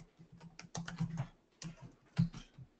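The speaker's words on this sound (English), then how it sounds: "I'm typing this up so because I'm not writing down notes." Computer keyboard typing in an office setting, a quick run of close, clicky keystrokes in uneven bursts with short pauses, no talking.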